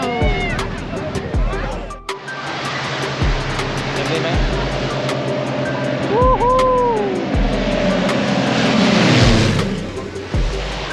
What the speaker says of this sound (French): Huitième avion.